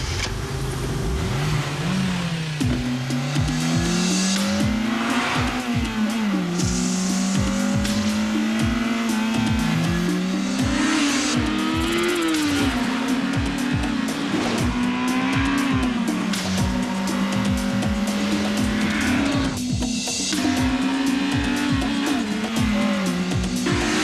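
An Acura RSX with a 200-horsepower engine revs hard through repeated gear changes as its tires squeal, with the engine note rising and dropping in steady waves, loud and close throughout.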